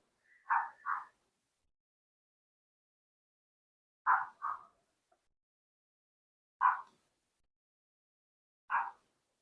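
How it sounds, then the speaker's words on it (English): Short yaps from a small dog, a double bark followed by another pair, then two single barks, with silence between, fairly close. "barking, barking, and barking."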